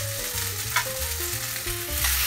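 Pasta for Napolitan frying in a pan, a continuous loud close sizzle with occasional stirring scrapes and no voices.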